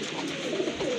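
Cooing from a pair of Giribaz pigeons, soft low murmuring calls repeating close by across a brief moment, with no talking over them.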